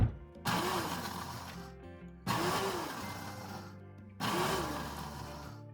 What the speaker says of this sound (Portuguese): esse amendoim que eu bati no liquidificador